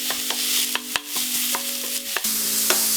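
Ground beef browning in a pan for a homemade Milano Doria, a steady close sizzle punctuated by repeated sharp clinks and scrapes of a utensil against the pan, no talking.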